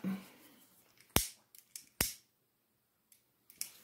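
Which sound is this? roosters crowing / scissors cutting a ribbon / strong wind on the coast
scissors cutting a ribbon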